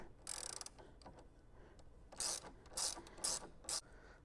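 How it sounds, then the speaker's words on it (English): Ratchet loosening the 10 mm negative battery terminal on a 2021 Chevy Silverado 2500 HD Duramax: a short burst of clicking, then four brief quiet ratcheting strokes, close up, with no talk. "The driver's side, we're just going to remove this negative terminal, just 10 millimeter."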